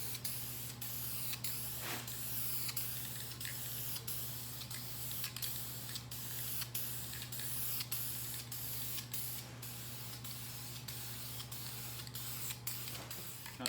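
Spray can laying a light coat of paint on a Ram Promaster City hubcap, repeated short hissing bursts with brief gaps, close and steady over a constant low hum, with no speech.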